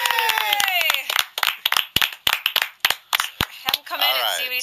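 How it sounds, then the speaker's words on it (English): Small group clapping in rough unison, sharp close hand claps in irregular bursts with cheering, whoops and excited voices mixed in. "now everyone clap"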